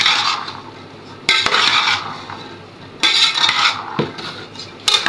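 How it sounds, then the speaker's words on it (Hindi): Chana chaat mixed in a metal bowl with a spoon, giving clinking, scraping bursts that come in three separate rounds with short quieter gaps between them, close and fairly loud. "ये चाट हमने तैयार कर ली है, अच्छे से मिक्स कर लेते हैं।"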